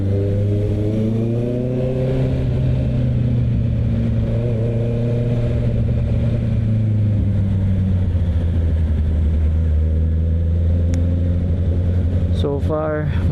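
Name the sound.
Honda CB650R motorcycle riding through heavy traffic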